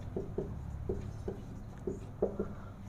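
Chalk or pen taps and scratches out a formula on a board during a maths lesson, several quiet separate strokes in an uneven rhythm against a faint room background.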